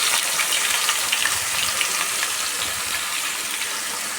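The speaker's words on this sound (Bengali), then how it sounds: "এই তেলের মধ্যেই আঁচ কমিয়ে আমি যে পেস্ট করে রেখেছি সেই পেস্টটা আমি" Spice paste for a Bengali fish curry hits hot oil over lowered heat, giving a steady, dense, close sizzle that holds evenly throughout with no talk.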